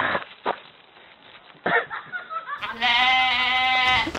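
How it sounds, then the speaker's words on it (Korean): Goat bleating in a farmyard setting: a loud, sustained wavering bleat rising after some faint rustling and scattered brief sounds, close to the listener. "염소요."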